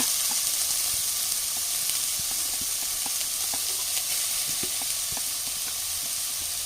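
Three chopped onions sizzle steadily in a hot pan for a chicken roast, a constant close frying hiss with faint clicks of a spoon throughout, no voices.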